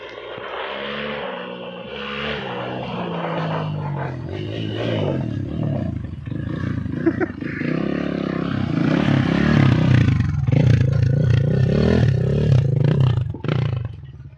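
Enduro motorcycles, a Regul Moto Sport 003 and Ataki 300, ride across a suspension bridge: engines rev and roar close by, rising and falling throttle swells that grow louder toward the end.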